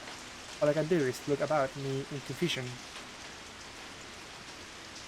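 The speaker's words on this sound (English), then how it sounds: "The lively sounds of the city have been replaced by the quiet sound of falling rain." Quiet rain falls in the video game Code Realize Guardian of Rebirth, a soft, even hiss that runs throughout while a voice speaks over it.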